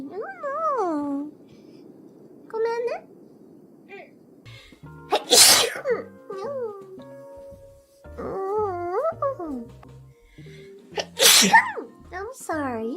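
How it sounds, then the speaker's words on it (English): Repeated sharp sneezes burst out twice amid a woman's high-pitched talking and whining vocalizations, with a low rhythmic thumping in the background. "I'm sorry, I keep sneezing."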